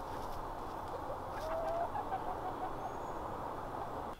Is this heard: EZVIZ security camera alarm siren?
no